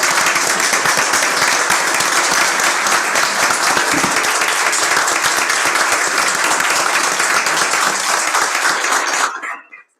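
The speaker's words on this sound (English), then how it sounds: "if we can give them a great big round of applause" Loud, sustained applause from a school board meeting audience, welcoming newly hired staff. Dense clapping runs steadily for about nine seconds and then quickly fades to silence.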